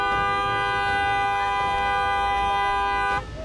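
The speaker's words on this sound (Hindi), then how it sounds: "इस दौरान मीडिया से घिरे चिराग लगातार हॉर्न बजाते रहे" A loud, sustained car horn blares almost without pause at a closed compound gate, with a crowd of media nearby, and cuts off abruptly near the end.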